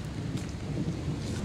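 Steady rain outside a Goodwill store, a continuous broadband hiss and patter with low rumble, heard alone and fairly close throughout.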